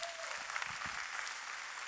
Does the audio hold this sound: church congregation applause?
yes